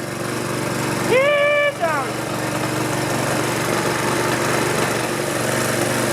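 Close, loud lawn mower engine running rough after striking an object, with a sputtering drone throughout while blowing a lot of smoke, and a voice speaking briefly over it.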